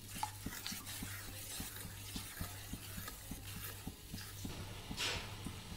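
Sugar being stirred into homemade mango jam over a low flame, soft scraping and a quiet liquid bubbling with a steady low hum beneath, faint and close.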